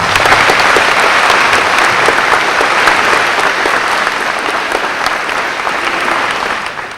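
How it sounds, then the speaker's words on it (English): Audience applause at a junior high school Veterans Day program, honoring the guests and speakers; dense, steady clapping from a large crowd fills the whole stretch, loud and close, fading slightly at the end. "So please give them a round of applause."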